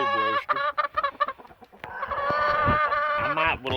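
A gamefowl brood rooster clucks up close: a quick run of short, choppy clucks, then a longer drawn-out call that ends with a few rising clucks.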